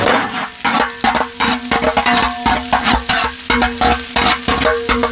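Finely chopped onion frying in cold-pressed sesame oil in a pan for a village-style cabbage, carrot and egg omelette, a steady dense crackling sizzle broken by repeated scraping stirs, close and loud with no talking.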